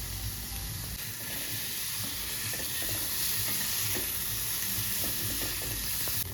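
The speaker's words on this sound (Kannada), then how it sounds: "ಇದಕ್ಕೆ ಸ್ವಲ್ಪ ತುಪ್ಪ ಹಾಕಿ ಗೋಲ್ಡನ್ ಬ್ರೌನ್ ಆಗೋವರೆಗೂ ಫ್ರೈ ಮಾಡಬೇಕು" A fine paste frying in ghee in a pan until golden brown for paneer ghee roast, a steady, loud, close sizzle with constant hiss and occasional stirring scrapes, no talking.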